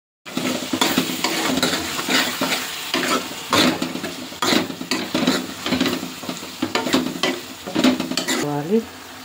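Ridge gourd curry stirred and frying in a pan, a steady loud sizzle with repeated scraping strokes of a spoon against the metal and a brief clink at the end.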